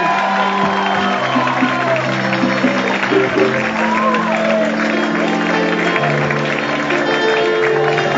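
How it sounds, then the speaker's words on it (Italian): Studio audience applause on an Italian TV talent show, a steady wash of clapping and crowd noise with sustained musical tones and voices running underneath throughout. "Un applauso enorme, ragazzi, dai!"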